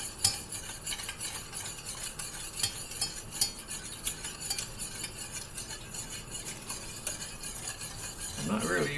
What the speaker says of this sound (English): And again, you stir until the arm falls off.